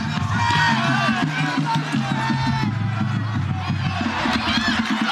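High school football crowd cheering at a Friday night game between the Poteau Pirates and Bishop Kelly Comets, a steady roar from the stands with band music underneath.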